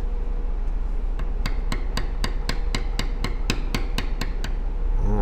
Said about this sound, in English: we fade out with our bevel just by lightening up the pressure that you're tapping with.